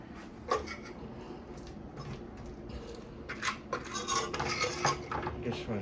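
Spoon clinking against a cup or dish, a quiet scatter of light metallic taps and scrapes that grows busier and closer toward the end, with no talk.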